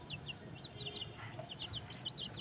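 A chicken clucks in short repeated bursts while being given food on a farm, faint and somewhat distant over a low background rumble, with no talk.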